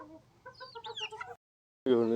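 Country chickens cluck softly and closely while pecking at sprouted paddy, a short run of quiet calls, then a pause before one louder, sharper squawk.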